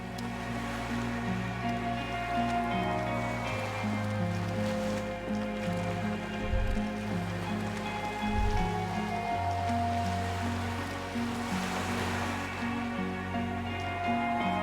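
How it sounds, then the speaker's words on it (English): Water lapping against a dock where a small skiff sways in Disco Elysium, a steady soft wash of waves under low droning ambient music, continuous and gentle throughout. "The skiff is swaying on the waves by the dock."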